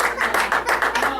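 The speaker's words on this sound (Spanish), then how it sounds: "Denle un fuerte aplauso a Dios." A church congregation claps together in a short burst of rhythmic, fairly loud applause, the claps falling in a steady repeated pattern.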